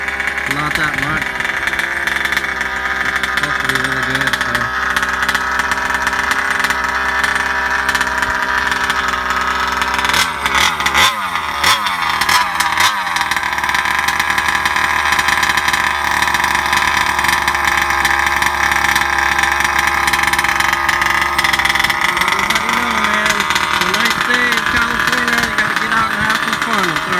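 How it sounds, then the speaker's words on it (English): A GP290 29cc gas engine with a stuffed crank runs in a Kraken Vekta.5 RC truck, a steady buzzing drone that holds throughout with a brief rougher revving burst midway, close and loud, with a person talking over it. "that's the engine, a GP290 29cc with the stuff crank"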